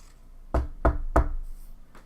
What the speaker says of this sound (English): I gotta do a knocking sound effect